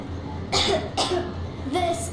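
A young girl, Nastya, coughs in the video game Metro Exodus: three short, raspy bursts spaced apart over a low steady background hum, fairly close and moderately loud.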